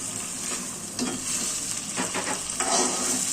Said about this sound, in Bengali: এবার এটাকে ভালো করে ভাজতে হবে।